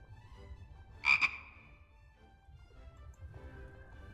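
A frog croaks twice in quick succession in the adventure video game The Book of Unwritten Tales, where a mage is trapped in frog form; the croaks are loud and close over a low, quiet background hum.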